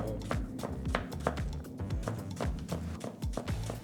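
A sharp knife, freshly sharpened, slicing a vegetable into thin salad strips on a cutting board, a steady run of crisp close taps as the blade drops through and strikes the board, with no talk.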